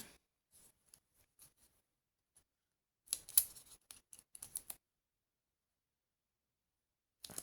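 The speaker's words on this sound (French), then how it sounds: "Il va falloir que je coupe un peu ici." Quiet snips of scissors cutting scrapbooking card for a St Patrick's card, a few isolated cuts followed by a cluster of quick close snips, then a final short snip after a silent pause.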